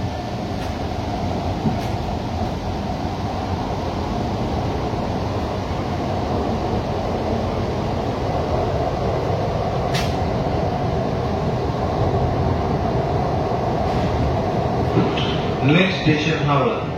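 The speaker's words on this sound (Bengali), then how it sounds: "মেট্রো ছেড়েও দিয়েছে।" A Kolkata metro train on the Howrah–Esplanade under-river line pulls away from the station, a loud, continuous rumble and rolling hum heard from inside the coach for the whole stretch, with a voice faintly present.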